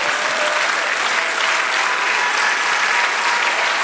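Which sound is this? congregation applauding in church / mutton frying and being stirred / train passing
congregation applauding in church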